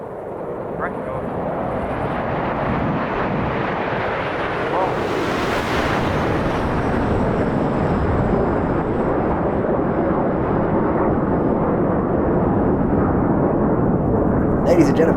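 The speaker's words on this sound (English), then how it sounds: "Synchro now come back towards us for their final manoeuvre as a duo, the opposition barrel roll." Red Arrows synchro pair jets from a Flight Simulator air show roar past in a long, loud, continuous wash of engine noise that peaks and slowly fades, with no voices.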